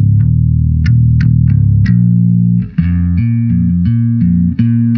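Heavily effected bass guitar with distortion and chorus plays a sludgy riff on the top two strings, sustained low notes shifting in steady 4/4 phrases with a brief slide, loud and alone.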